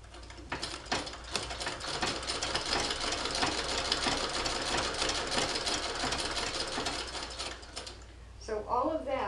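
An 1891 White VSIIb treadle sewing machine stitches through leather with a steady, rhythmic mechanical clatter of gears and needle that runs continuously, ending abruptly as a voice briefly speaks.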